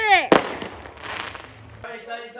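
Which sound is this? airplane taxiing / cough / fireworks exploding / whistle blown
fireworks exploding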